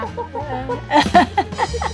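Chickens raised for their eggs cluck in short, bright bursts, close by and loud, with several birds overlapping in a busy stretch near the end.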